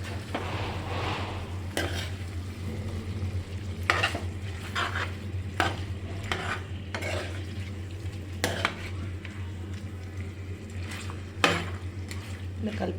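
Gongura chicken gets stirred in a pan, a spoon scraping and clinking against the metal at irregular intervals over a low steady hum and soft sizzle.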